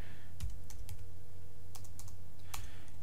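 A search term typed on a computer keyboard: scattered, fairly quiet key taps in small clusters over a steady low hum, with no speech.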